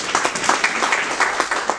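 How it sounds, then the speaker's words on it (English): Audience at an orthopedic medical lecture applauds briefly, a steady patter of many hands clapping at moderate volume, with no voice over it. "So, clapping for him"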